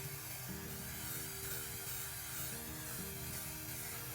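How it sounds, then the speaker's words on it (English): An aerosol can sprays FRP panel adhesive in a steady, continuous hiss, close and unbroken for several seconds with no talking. "I'm able to kind of get a slower spray pattern to achieve a really good consistent look."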